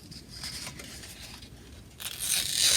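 Paper is torn along a fold line during a preschool craft, a close, soft ripping that swells into a longer, louder tear near the end.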